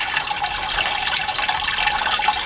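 Water washing through sand and gravel in a homemade filter setup, a steady, fairly loud rushing and trickling hiss that holds constant with no talk over it.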